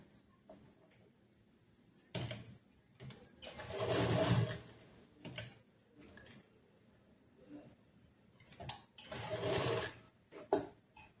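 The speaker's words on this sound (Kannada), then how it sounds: "ಇವಾಗ ಈ ಸೈಡ್ಗೆ ಒಂದು ಸ್ಟಿಚ್ ಮಾಡ್ಬೇಕು ಇದ್ರ ಮೇಲೆ" A sewing machine stitches along the folded hem of a semi-Patiala churidar pant in two steady whirring runs, the first longer, separated by a quiet pause with light handling noises.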